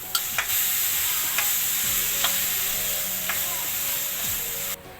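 Tomatoes and salt cooking in frying masala in a pan: a constant close hiss of sizzling with a few sharp spoon taps and scrapes, running steadily until it cuts off near the end, with no talking.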